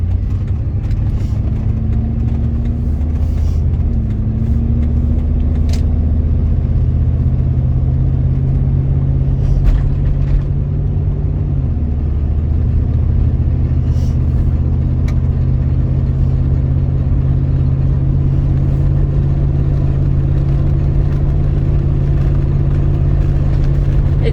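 A 2004 Ford Expedition driving on the road, heard from inside the cabin as a loud, steady low engine and road rumble that shifts pitch once partway through, with faint intermittent clicks above it.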